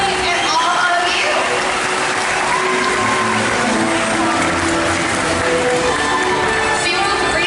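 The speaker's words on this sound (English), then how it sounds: "Let's give a big round of applause for our killer whale family and all of you." A SeaWorld audience applauds steadily after a killer whale show, a dense, continuous wash of clapping from a large crowd that holds at full level from start to finish.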